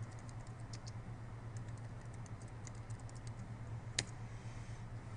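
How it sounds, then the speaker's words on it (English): Someone types on a computer keyboard, entering a location into a web search: quiet, scattered key clicks with one sharper tap, set over a steady low hum in an otherwise quiet room. "Type in Akita coordinates."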